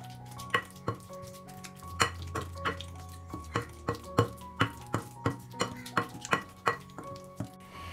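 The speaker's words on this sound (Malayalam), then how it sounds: "ഇതുപോലൊരു സ്മാഷർ വെച്ചിട്ട് വേണം നമ്മൾ നല്ലതുപോലെ ഒന്ന് ഉടച്ചെടുക്കാനായിട്ട്." A hand smasher pounds drink ingredients for a Ramadan iftar drink, giving a steady run of sharp, close knocks and clinks against the vessel, about every third of a second, with no voices.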